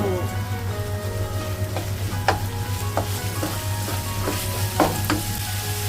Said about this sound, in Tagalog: Tapos magpiprito ako ng tuyo.